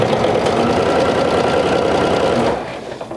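A sewing machine runs at a fast, even whir while stitching a seam on a vintage jumper, then slows and stops near the end, close and clear with no talk.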